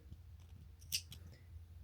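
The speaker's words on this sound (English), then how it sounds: "I am going to just go ahead and use some scissors" Scissors make small clipping cuts into fabric while sewing drawstring barrel-leg pants; one quiet, crisp snip stands out near the middle over a low background hum.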